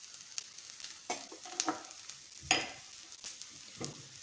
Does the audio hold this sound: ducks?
no